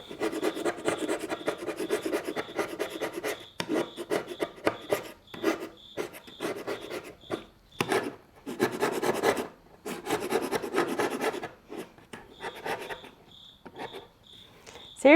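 A hand scraper works across wood veneer in quick, rasping rhythmic strokes, close and crisp, with short pauses between bursts. A steady high insect-like chirp pulses in the background, and no one speaks.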